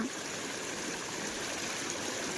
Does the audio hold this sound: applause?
no